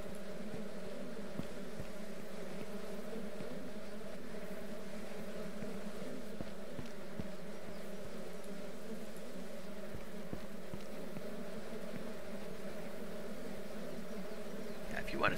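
Bees buzz steadily around hive frames in the farming game Ranch Simulator, a constant droning hum that stays level and close throughout, with occasional faint clicks underneath.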